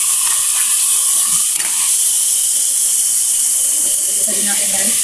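Chicken pieces hitting hot oil in a home-cooking pan for tomato chicken stew, giving a steady, close broadband sizzle and hiss that holds through the whole stretch, with faint kitchen clatter underneath.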